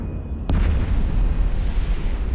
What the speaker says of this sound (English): Oh, it's the blue explosion.